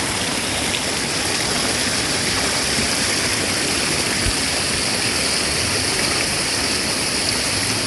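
Water rushes loudly and steadily, the constant roar of Dunn's River Falls in Ocho Rios, Jamaica, close by with no breaks.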